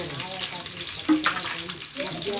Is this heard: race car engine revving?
no